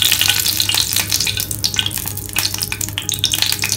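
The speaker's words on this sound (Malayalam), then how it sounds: "ചട്ടി ചൂടായിട്ടുണ്ട്, വെളിച്ചെണ്ണ ഒഴിച്ച് വെക്കാം." Coconut oil sizzling and crackling in a hot pan for tempering, a continuous loud, close frying hiss with no voices.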